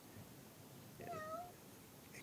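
A man imitates a cat's meow, a single short falling mew lasting about half a second, faint against steady background hiss.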